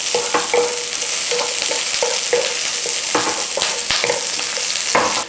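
Onions frying in a hot pan for a from-scratch chicken dopiaza, a steady loud sizzle under repeated scraping and stirring strokes, close up with no voices.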